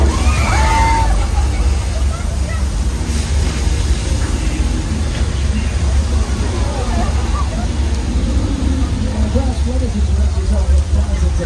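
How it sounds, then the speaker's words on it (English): Recycled water released from large hilltop tanks surges down in a staged flash flood on the Universal Studios Hollywood studio tour, a loud steady rushing slosh under crowd noise and talking. "Gallons of recycled water released from large tanks located atop the hill."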